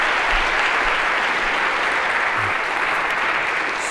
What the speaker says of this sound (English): If I could invite you to all give everyone here a round of applause.